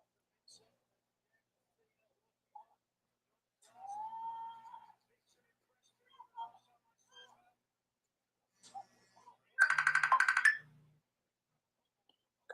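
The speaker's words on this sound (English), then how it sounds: "Phone's going off." A phone goes off during a live pro wrestling reaction stream, a short burst of bright electronic ringing that stands out loudly for about a second amid quieter surrounding sounds and brief voices.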